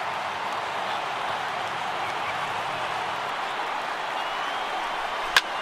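Crowd of about 22,000 at a Phillies versus Orioles baseball video game rising to its feet, a steady wash of cheering and applause that holds evenly throughout, with one sharp tick near the end.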